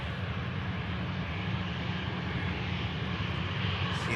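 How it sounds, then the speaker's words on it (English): An EasyJet airliner turning off the runway onto a rapid exit makes a steady, fairly faint engine rumble and hiss that holds evenly throughout, with no voices. "Rapid exit for this EasyJet"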